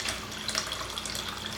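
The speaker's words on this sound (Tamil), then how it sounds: "இப்போ தண்ணி சேர்த்துக்கலாம்." Water being poured into tamarind rasam while cooking, a steady close splashing pour that runs continuously at even loudness.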